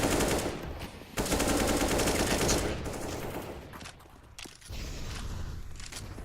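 Sustained rapid automatic gunfire in a competitive esports video game match, dense and loud, with brief pauses and a short break before firing resumes.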